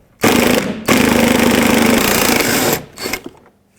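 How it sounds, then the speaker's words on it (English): A power tool loosens a T50 bolt from the door of a 2008-2010 Ford F-250 extended cab, running in two loud continuous bursts of motor whine with a short break between them and a brief tail at the end. "Remove the T50 bolt."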